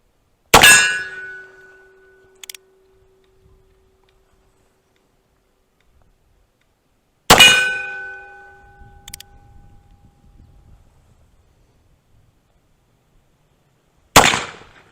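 Three sharp gunshots from a JH Dance Brothers Confederate cap-and-ball black powder revolver, widely spaced, each followed by a brief metallic ring from a steel target, with faint rustling between shots.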